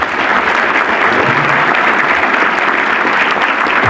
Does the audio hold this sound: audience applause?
yes